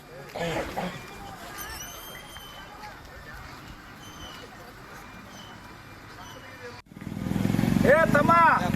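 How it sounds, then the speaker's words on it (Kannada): A motorcycle engine runs at a sugarcane farmers' roadside protest, a low idle rumble under crowd noise and chatter that swells loud and close near the end as the bike revs up. "ಏ ತಮ್ಮ ಬಂದ್ ಮಾಡಪ್ಪ ಗಾಡಿ ಬಂದ್ ಮಾಡ. ಯಾವ ಬೈಕ್"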